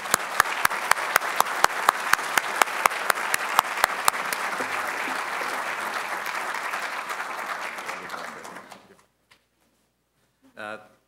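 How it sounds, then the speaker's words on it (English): Conference attendees applaud at an opening welcome, a full, even wash of clapping with a few loud near claps, tapering off and stopping, followed by a brief moment of speech. "give a round of applause to Andy"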